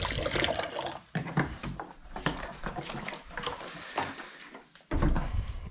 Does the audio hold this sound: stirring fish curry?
no